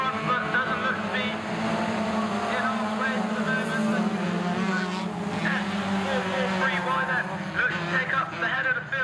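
Race cars in the men's class 2 field at a UKAC autograss round at Sturton roar continuously around the track, loud engine noise with a fluctuating drone and occasional tyre scrubbing, with a commentator talking over it throughout.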